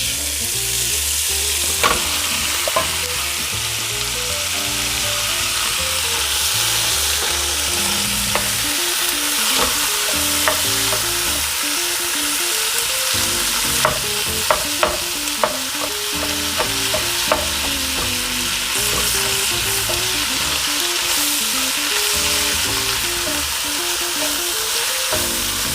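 Italian sausage fries in a heavy cast iron Dutch oven, a continuous close sizzle with scattered sharp clicks and scrapes from stirring throughout.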